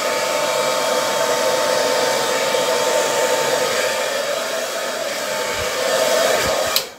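A hair dryer blows steadily and loudly across acrylic paint in a Dutch pour over an iridescent gold base, a constant close airy roar that barely shifts before it cuts off abruptly near the end.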